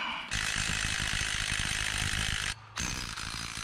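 Ratchet driving extended wheel studs into the hub of a K20A2 Honda Civic hatchback, a loud, continuous rapid clicking whir that cuts out briefly near the end and then resumes.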